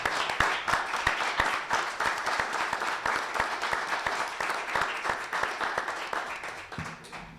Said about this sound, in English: join me in a round of applause for the folks that are here